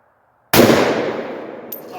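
One sharp, loud AR rifle report from a Palmetto AR with a Kaw Valley buffer firing Freedom Munitions ammo, an abrupt blast out of silence that decays over about a second and a half, followed by a faint metallic clink.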